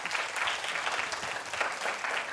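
A broadcast audience gives sustained, even applause at a Magic System show, with a dense, steady wash of clapping and no pauses.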